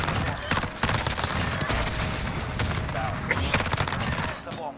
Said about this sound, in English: That's a VTOL.